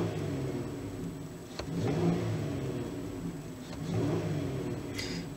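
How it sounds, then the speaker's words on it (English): A 2011 Ford Edge with a misfire and hesitation, its engine revving up twice as the throttle is snapped open and released, heard at moderate level from nearby with a low idle between the blips. "Snapping the throttle on and off now."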